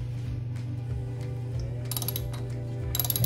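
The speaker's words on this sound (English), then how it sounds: "we're ready to unscrew it with our socket wrench" Close, steady clicking of a socket wrench ratchet unscrewing a corroded Kohler bathroom faucet cartridge, with a low hum underneath and a brighter clatter of clicks toward the end.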